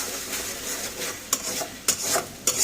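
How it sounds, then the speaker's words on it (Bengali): Two eggs frying in a pan for fried rice, a continuous close sizzle broken by three sharp scraping clicks of a utensil against the pan, no talking. "এখন আমি ডিমটা দিয়ে দিলাম ভাজার জন্য"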